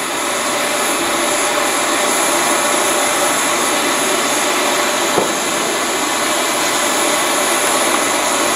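A gas torch flame roars steadily while fusing enamel onto a mandrel, a loud, constant broadband rush with no pauses and one faint click partway through.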